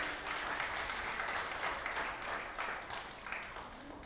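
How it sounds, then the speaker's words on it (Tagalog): A church congregation claps for Jesus during a Filipino worship service, a steady wash of many hands at moderate distance, fairly soft and continuous for a few seconds with no talk over it. "The best pong palakpak para kay Jesus."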